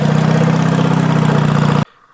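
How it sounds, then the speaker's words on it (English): A 1968 John Deere backhoe runs close and loud as its outriggers lift the tractor, a steady low diesel drone that cuts off abruptly near the end, leaving near silence. "I can lift the whole tractor up."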